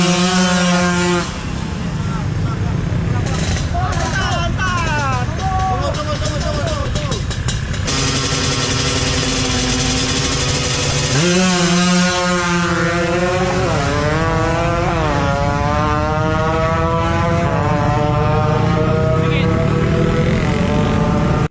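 Motorcycles race at a drag race in Medan, engines screaming loudly through rising, repeated gear-shift sweeps as bikes launch and pass nearby, with crowd noise and shouting underneath.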